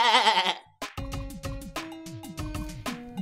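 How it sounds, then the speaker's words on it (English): A cartoon goat gives a loud, wavering bleat up close, lasting about half a second, then breaks off into a bouncy, percussive music track with rhythmic plucked notes. "This is just Billy Goat"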